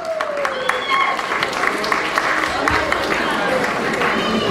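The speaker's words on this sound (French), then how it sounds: "On applaudit." Wedding guests applauding a family member of the groom, with clapping and crowd noise mixed with loud overlapping voices and background music.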